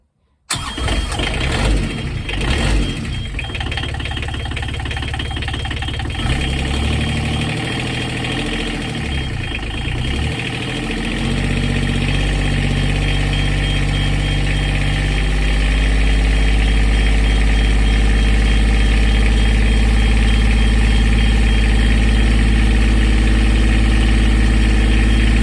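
A new Beta marine diesel engine in a Contessa 32 sailboat cranks, catches and settles into a loud, steady idle that runs on alone, close by and even, with a deep low rumble filling the rest of the time.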